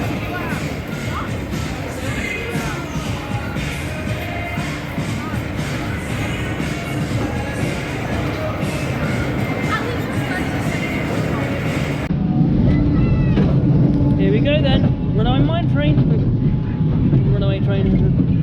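The Runaway Train roller coaster rumbles and rattles along its track at Botton's Pleasure Beach, a loud steady mechanical roar that shifts in character partway through, with a person talking over the ride noise.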